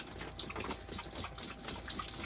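Liquid poured into a washing machine reservoir while winterizing a lakehouse, a steady, faint splashing gush of water with constant trickling throughout.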